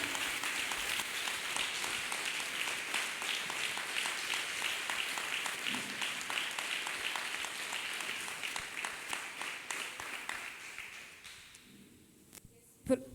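A church congregation applauds steadily with dense, continuous clapping that fades out toward the end, followed by a brief sharp knock.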